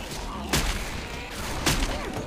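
Two heavy Magnum pistol shots fire about a second apart in the video game Left 4 Dead 2, each a loud, sharp blast over a steady wash of in-game background noise.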